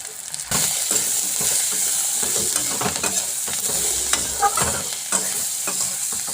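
Slit green chilies, salt and turmeric fry in a pan, giving a steady close sizzle with frequent scraping stirs and clinks of the utensil throughout.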